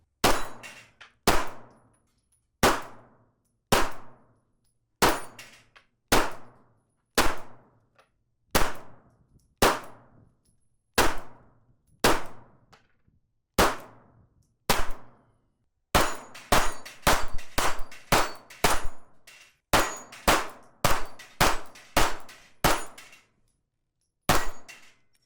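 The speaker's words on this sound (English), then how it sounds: "a little bit difficult shooting into the sun today, but so far so good with the brand new Springfield Hellcat in 380" A Springfield Hellcat .380 pistol fired outdoors: about two dozen sharp, loud shots, first spaced roughly a second apart, then a faster string of rapid shots, each with a short ringing decay, and no talking.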